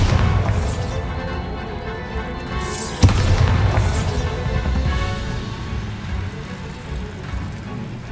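Bombarda spell blasting a wall in Hogwarts Legacy, a single sharp crack-boom around the middle followed by a dense rumbling roar of debris and magical energy that persists and slowly thins out.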